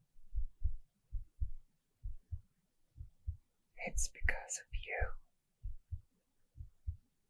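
Soft, regular heartbeat thumps from a chest throb steadily and close, with a whispered voice speaking briefly over the middle of them.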